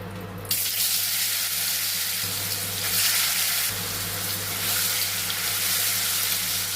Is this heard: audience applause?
no